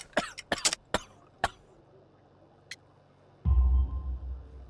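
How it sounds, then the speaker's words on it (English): A man with coal dust in his lungs and a severe cough hacks in a rapid cluster of harsh coughs, then one more after a pause, in the Sherlock Holmes: The Devil's Daughter game, followed by a low rumbling. "You have a severe cough."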